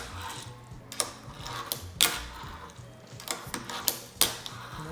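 A fingerboard fitted with Zoo Krew trucks clicks and clacks through tricks, sharp wooden taps and pops landing in an irregular rhythm over a faint rolling rattle, close and fairly loud.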